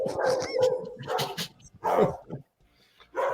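A dog barks and yips excitedly in a series of close, loud bursts, with whimpering between them and a short pause near the end.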